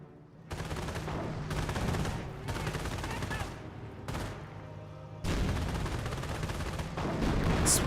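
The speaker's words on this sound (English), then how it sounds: "Artillery raining over there." Artillery barrages in Company of Heroes pound away in dense bursts of booming gunfire and explosions, loud and continuous with brief lulls between volleys.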